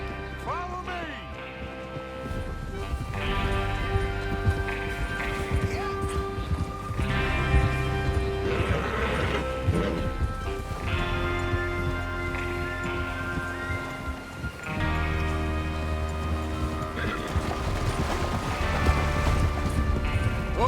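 Horses gallop in Red Dead Redemption 2 with a continuous thudding of hooves beneath swelling music and occasional voices.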